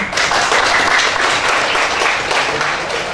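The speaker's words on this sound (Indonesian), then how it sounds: "Tepuk tangan dong buat teman-teman." A public lecture audience applauds steadily, dense clapping from many hands filling the room at a loud, even level for a few seconds.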